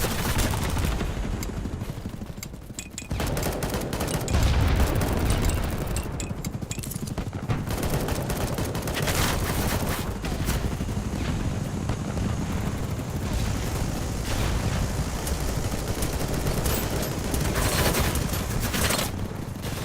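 Vector submachine gun in the video game BattleBit, firing in dense, nonstop rattling bursts over a thick roar of battlefield noise and explosions that fills the whole stretch without a break.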